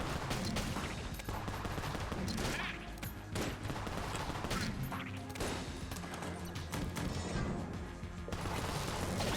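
Sawed-off shotgun blasts in the video game Enter the Gungeon, rapid and loud, overlapping with crashes and other game effects in a continuous barrage.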